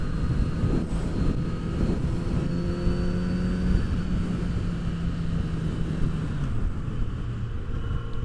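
Kawasaki Z900 RS motorcycle being ridden, a steady engine drone with rising and falling pitch as it accelerates, mixed with constant wind rush across the microphone.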